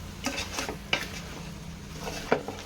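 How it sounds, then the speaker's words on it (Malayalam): Chicken pieces stirred in a pan of hot oil for a village-style Malayalam biryani, with a few quiet scraping stirs and soft clinks of the spoon against the pan over a faint background hum. "നല്ലതായിട്ട് ഇളക്കി കൊടുക്കാം"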